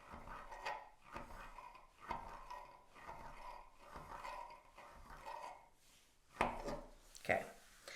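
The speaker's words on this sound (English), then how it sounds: "cut your noodles the width that you want" A knife chopping through rolled homemade egg noodles on a cutting board, a steady series of soft thuds roughly once a second, with two sharper knocks near the end.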